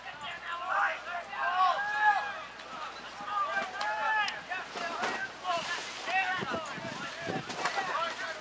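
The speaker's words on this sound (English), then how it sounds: "You can hear the wind picking up around us." Wind gusts buffet the microphone at an outdoor ultimate frisbee game, a rough low rumble rising and falling throughout under frequent talking and distant shouts.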